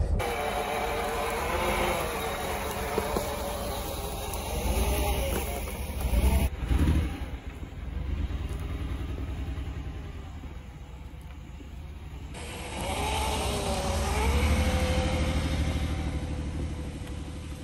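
An old abandoned car drives along with a steady engine drone and road rumble, rising in a couple of swells as it picks up speed, close and fairly loud with no talking.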